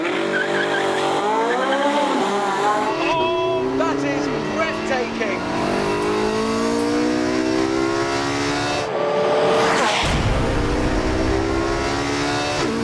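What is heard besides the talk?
hybrid sports car engine revving on track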